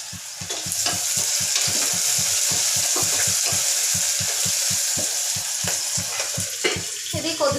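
Tempering sizzles in oil in a covered pan for a Telugu mutton gongura dish, a loud steady frying hiss punctuated by rapid, regular scraping stirs close by, with no talking.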